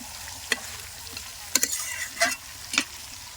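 Pieces of fish being stirred and fried with spices and turmeric in a pan, giving a soft steady sizzle broken by a few sharp scraping clicks of the spoon, close by with no talk.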